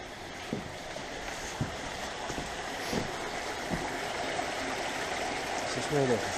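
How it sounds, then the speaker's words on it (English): A creek running through an abandoned ghost-town site, a steady broadband rush of flowing water with occasional louder splashes and faint voice-like sounds at the end, moderately close. "This is where the creek comes through."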